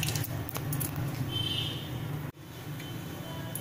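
Sliced raw potato chips being rinsed by hand in a bowl of water at home, giving a steady wet squishing and sloshing that runs throughout, close and moderately loud, with a brief dip near the middle.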